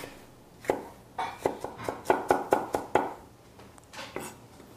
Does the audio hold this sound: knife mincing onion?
yes